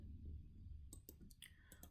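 Several quick, crisp clicks from a computer keyboard's space bar sound close and faint, spaced irregularly over a low background rumble.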